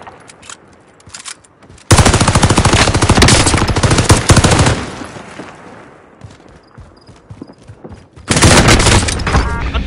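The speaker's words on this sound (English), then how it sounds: "I'm taking fire!" Loud video game machine gun fire in sustained automatic bursts, one long stretch followed by another burst after a pause, with quieter game sounds and faint voices in between.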